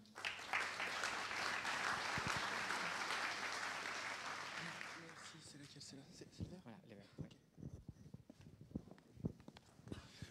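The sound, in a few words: conference audience applause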